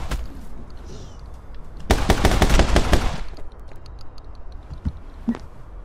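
Rapid automatic gunfire from an infinite-ammo weapon in the video game My Friend Pedro, a dense loud burst lasting over a second, with a few scattered single shots and thuds after.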